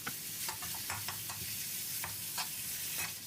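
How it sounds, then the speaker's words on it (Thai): Minced pork stir-fries with shrimp paste in a hot pan, a continuous sizzling hiss broken by rhythmic scraping strokes of a spatula, heard close and alone. "ขั้นตอนต่อไปเราก็ใส่เป็น หมูสับลงไปได้เลยนะครับ จากนั้นเราก็ผัดให้ สุกเลยครับ"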